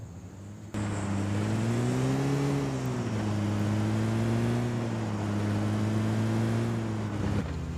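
Steady engine drone of a vehicle driving in PUBG Mobile, a continuous low hum that starts abruptly and rises slightly in pitch as it accelerates, loud and alone with no talk.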